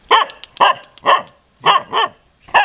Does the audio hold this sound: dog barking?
yes